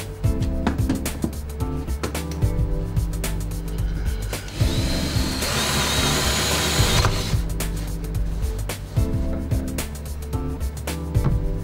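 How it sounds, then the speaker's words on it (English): A power drill whines in steady bursts while drilling four bolt holes, with a louder continuous stretch in the middle, amid clicks and handling noise close by. "mark the holes and then drill the 4 bolt holes"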